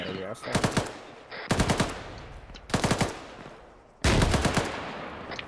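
Machine gun fire in a military video game, four separate bursts of rapid shots, each a loud cluster of cracks followed by a decaying tail, the last burst sustained longer.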